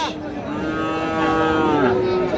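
Friesian and cross-breed cattle low at the Raniganj livestock market, a drawn-out moo rising and falling over about two seconds, close and fairly loud above a steady crowd murmur.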